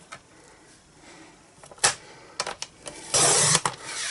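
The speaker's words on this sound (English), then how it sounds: "I'm just going to cut out this little image, so I'm just going to do this freehand with my trimmer" Paper trimmer slicing freehand around a small watercolour image for a card, a series of short sharp cutting strokes and clicks with one longer rasping cut, close and alone.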